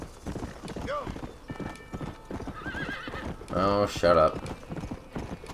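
Horse galloping and neighing in Red Dead Redemption: rapid, rhythmic hoofbeats throughout, with several shrill whinnies rising above them, the loudest near the end, while someone talks over it.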